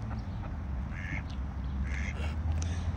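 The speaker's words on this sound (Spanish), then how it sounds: "El pato americano no es temeroso." American duck quacking in short bursts at close range outdoors, over a steady low background rumble of wind or traffic.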